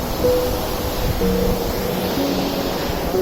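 A milky-white waterfall stream rushes down a steep mountain, its steady broadband roar of water close and continuous, with a few faint tonal sounds over it.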